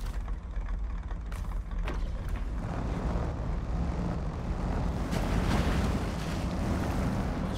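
A Buick Century truck in the game SnowRunner plunges into water, a continuous rushing splash and wash with a low rumbling undertone, loud and sustained with no talking.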